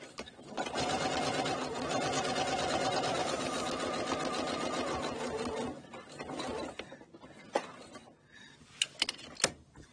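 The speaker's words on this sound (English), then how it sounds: "then you put your presser foot back down and then sew again across to the other corner" A sewing machine stitches steadily for several seconds as the seam is sewn across to an inward-facing corner, then stops, followed by a few sharp clicks and handling noises.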